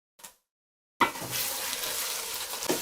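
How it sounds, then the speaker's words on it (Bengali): Whole spices and bay leaves fry with onion in hot oil. After a brief clink and a short silence, a loud sizzle bursts in and settles into a steady crackle, with a scrape toward the end. "পেঁয়াজটার সাথে গরম মশলাগুলোকে একটু ভেজে নিব"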